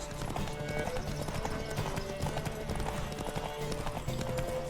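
Hooves of a galloping horse pound in a steady, rapid clip-clop during a horse race in the video game The Witcher 3: Wild Hunt, close and continuous under game music.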